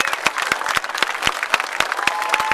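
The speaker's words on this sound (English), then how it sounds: "We love it when you clap like that." A stadium crowd claps and cheers for skydivers landing on the 50-yard line, dense steady applause with sharp individual claps standing out, close and continuous.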